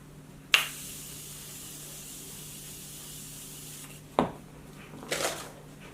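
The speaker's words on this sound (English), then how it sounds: "it's like an aerosol can and a really nice mist" Short hiss of a Morphe Continuous Setting Mist aerosol spray releasing a fine mist, a burst near the start and another toward the end, close and fairly loud against a quiet room.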